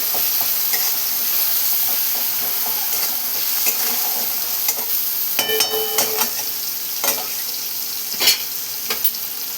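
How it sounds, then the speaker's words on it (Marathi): Boiled potato bhaji is stirred and mixed in a frying pan, sizzling steadily while a spatula scrapes and clacks against the metal in irregular bursts, close by and with no speech. "पुन्हा एकदा असं मिक्स करून घेते सगळ्याचं."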